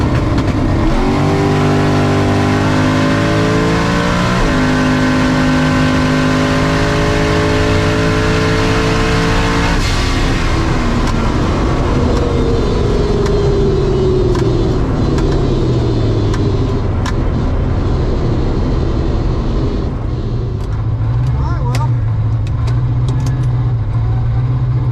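A drag race car makes a pass at Orlando Speed World, its engine roaring loud and close as it climbs through stepped revs, then a long fading, lower drone after the run.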